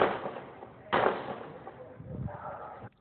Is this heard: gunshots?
yes